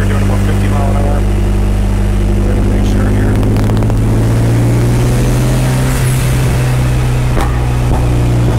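A turbocharged B16 VTEC engine in a Honda Del Sol runs hard in fourth gear at about 50 mph on a dyno, a loud, steady, droning mechanical roar that fills the whole clip with little variation.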